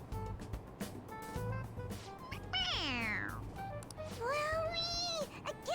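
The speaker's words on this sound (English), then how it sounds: "It meows when you press on its head." A toy cat in Persona 5 Royal gives two clear, drawn-out meows when its head is pressed, each a sliding mewl that stands out over a busy backdrop of game music and rumbling train ambience.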